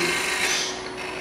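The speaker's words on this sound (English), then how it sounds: "with a detail gouge... I like the sound of that." A detail gouge cuts a turned wooden lidded box spinning on a lathe, giving a brief, steady hissing scrape up close that softens slightly toward the end, with no speech.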